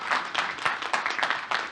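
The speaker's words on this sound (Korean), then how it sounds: "박수 좀 써요," An audience at a Korean law forum opening ceremony claps briefly in uneven bursts, moderately loud and close, with no talk over it.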